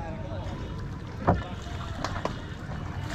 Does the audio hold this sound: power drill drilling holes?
no